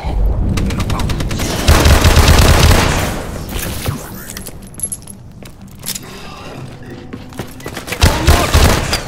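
Rapid automatic turret gunfire in Call of Duty: Advanced Warfare Exo Zombies on the Descent map, loud bursts of rattling shots with booming impacts, heaviest early then returning in sporadic volleys, with faint voices in the mix.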